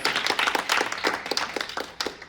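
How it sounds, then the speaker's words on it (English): An audience at a fireside chat claps for the guest, a brisk round of many hands nearby that holds steady and then thins toward the end, with nobody speaking. "give him a round of applause"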